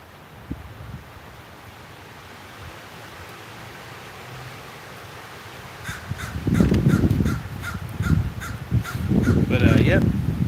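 Crows caw in a park on a windy day: first a low wind rumble with scattered noises, then loud, repeated harsh caws in two close bursts near the end.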